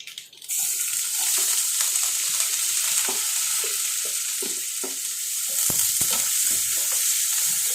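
Mustard seeds frying in hot oil in a pan, a loud, steady, close hiss and sizzle with faint crackling pops throughout and no talk.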